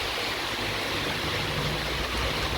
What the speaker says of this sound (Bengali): কিন্তু এখন বেশ ভালো বৃষ্টি হচ্ছে, আর তার সাথে হাওয়া